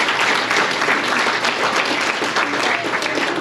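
Audience applause at an awards banquet for a pickleball association: steady, dense clapping from a full room that holds at an even loud level throughout.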